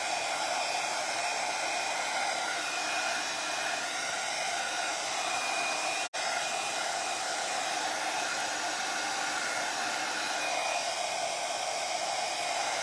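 A heat tool blows steadily onto resin coating a mosaic glass tile teacup, giving a loud, even whoosh that runs nearly unbroken except for a brief cutout partway through.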